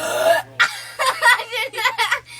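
Girls taking turns in a burping contest, with a string of short, loud, close belches and throaty bursts following one another over a low steady hum.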